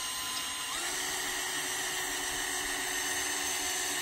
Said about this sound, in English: make sure the drill is on low